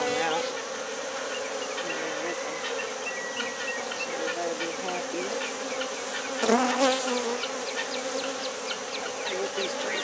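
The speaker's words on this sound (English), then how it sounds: "before I put too many more bees in here" A dense, continuous buzzing of many honey bees fills the air close by as they are put into a hive, with a person speaking briefly over the swarm.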